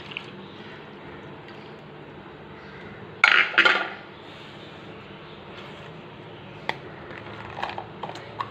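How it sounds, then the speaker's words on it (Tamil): Cooled custard being moved into a bowl, with a short burst of scraping and clinking as a utensil knocks against the dish. A few faint taps and drips follow in an otherwise quiet kitchen. "நான் வந்து இப்போ இந்த பவுலில் வந்து ட்ரான்ஸ்ஃபர் பண்ணிக்கிறேன்"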